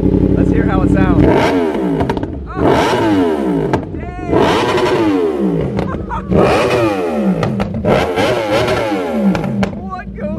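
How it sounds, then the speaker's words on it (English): A Yamaha R1 sport motorcycle with a full titanium Spark exhaust system revs hard several times in a row, loud and close, each blip rising and falling with a raspy exhaust note; a brief voice exclaims. "start up the R1 for us with the full titanium spark exhaust system"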